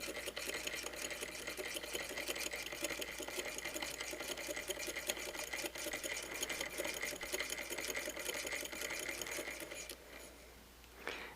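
Antique Sew Handy toy sewing machine making a chain stitch, a quiet steady rapid clatter running evenly before slowing and stopping, a small knock after.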